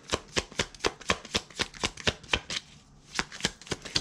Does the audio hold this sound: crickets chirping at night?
no